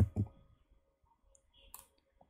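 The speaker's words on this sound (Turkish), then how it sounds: "Şöyle R'ye basıyorum." Sharp keyboard key presses and mouse clicks while drawing in Illustrator, a few close, dry clicks in quick succession with quiet gaps between them.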